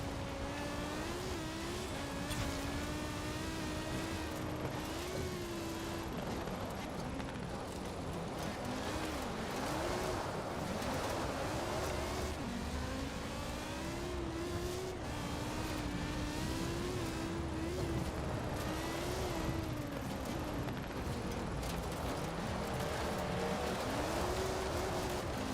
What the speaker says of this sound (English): highly tuned 5-cylinder Audi is still the fucking best engine sound